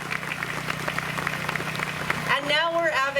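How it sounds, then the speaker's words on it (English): A crowd claps outdoors at an ALS charity walk at Ashbridges Bay, Toronto: steady, dense applause for about two seconds, then fading as a single voice takes over. "Deserves a round of applause."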